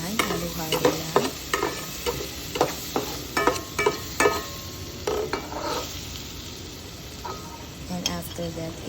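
Onions sizzle in melted margarine in a pan while a utensil scrapes and clacks as they are stirred. Rhythmic stirring strokes sit close over a steady frying hiss.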